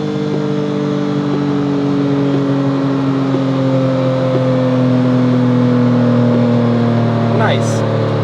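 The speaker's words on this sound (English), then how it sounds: "To right now hit the full throttle, so GCU can see that max torque." A Porsche GT3 Cayman with PDK dual-clutch gearbox holds a loud, steady engine drone at full throttle, a sustained tonal roar without clear pauses.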